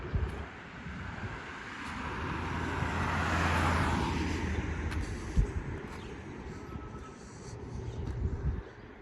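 A car passes on a city street in Regina during a walk, its tire and engine rush swelling to a peak midway and then fading, with wind buffeting the microphone and some faint street noise.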